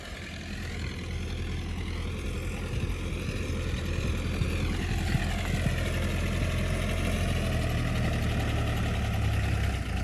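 A DMTZ 504 tractor engine runs steadily nearby during soybean spraying, a constant low mechanical drone with a slight rise in pitch partway through, no talking.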